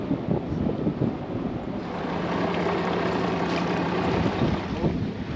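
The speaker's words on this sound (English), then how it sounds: "Leaving the marina now, just on our electric engines." Sailboat motoring out of a marina on electric engines, a steady broadband wash of wind and water noise with no clear motor whine, continuous and fairly even throughout.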